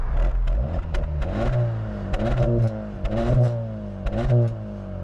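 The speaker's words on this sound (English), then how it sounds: "Exhaust is pretty good at startup. Let's do a quick exhaust check." A 2025 Acura Integra Type S engine revs repeatedly with sharp exhaust blips against a 3,500 rpm limiter, climbing quickly and dropping back, several rising bursts close by.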